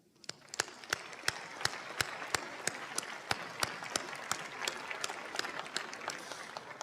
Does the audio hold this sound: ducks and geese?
no